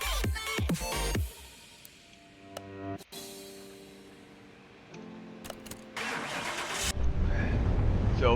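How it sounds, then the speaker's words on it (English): A stock 1978 Chieftain Bandit engine starts and runs on a dyno in Car Mechanic Simulator 2021, with a cranking start followed by a steady mid-pitched drone that rises into a loud sustained rev. "Now let's go to the dyno and see what kind of performance this thing does all nice and stock."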